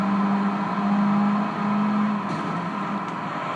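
A Lotus Elise engine hums steadily at Autumn Ring in the Gran Turismo Concept racing game, a loud sustained drone that holds pitch and then eases slightly lower, with faint clicks near the end.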